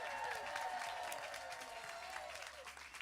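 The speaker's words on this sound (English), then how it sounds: "A huge round of applause," Audience applause at the Solfest music festival community musical in 2013, a continuous wash of crowd clapping with some cheering, fairly distant and gradually easing off.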